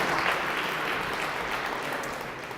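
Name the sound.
audience applause for a startup pitch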